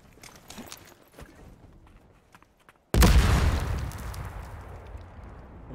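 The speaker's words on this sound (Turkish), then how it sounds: "Çok güzel bomba atmışım ha." A bomb goes off in the battle royale game Super People, with a loud, close blast that cuts in sharply and rolls away slowly. Lighter gameplay clicks and taps come before it.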